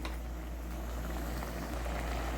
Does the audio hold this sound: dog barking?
no